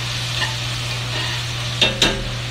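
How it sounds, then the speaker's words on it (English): Braised rabbit and vegetables are stirred in a hot pan over a constant loud sizzle, with two sharp scrapes of the utensil near the end. "I'm going to stir."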